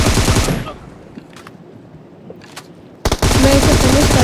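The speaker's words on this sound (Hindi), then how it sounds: "देखो उधर से भी फायर आ रहा है" Bursts of rapid automatic gunfire in PUBG Mobile, loud and close: one volley cuts off, fainter distant shots follow, then heavy firing resumes.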